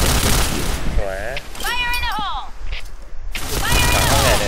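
Gunfire in a competitive team shooter match, rapid loud bursts filling the background while players talk over it.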